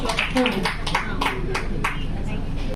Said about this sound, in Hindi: एटलीस्ट ताली तो बजानी चाहिए उसको।